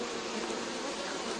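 Honey bees buzzing densely at a hive kept for royal jelly production, a steady close swarm drone with no breaks and no voices.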